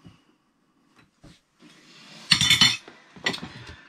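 A spoon stirs a dry biltong spice mix with whole peppercorns in a bowl, making a few light clinks and a gritty rattling scrape that builds briefly then eases.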